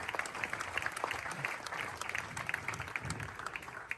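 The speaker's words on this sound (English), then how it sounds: "Round of applause." Applause from a small audience on a tennis court after a low-volley drill, steady scattered clapping with a few sharper claps, moderately close and continuing through without speech.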